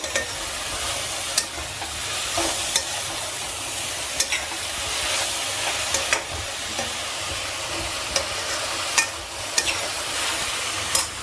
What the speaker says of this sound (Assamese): ইয়াৰ পৰা আধা ভেজিটেবলছ তাতে ট্ৰান্সফাৰ কৰি দিম